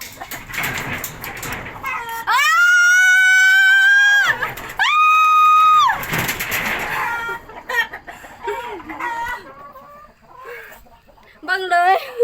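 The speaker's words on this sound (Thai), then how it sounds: "จับไก่ให้ยา" Chickens being caught and held for medicine let out loud, harmonic squawking calls in two long bursts near the start, followed by scattered clucks and shorter cries under ongoing talk.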